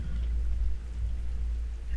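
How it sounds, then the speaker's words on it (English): Rain effect in the video game Slendytubbies 3, falling over a forest: a steady, dense hiss of rain over a deep low rumble, continuous throughout with no talking. "how cool this rain effect is"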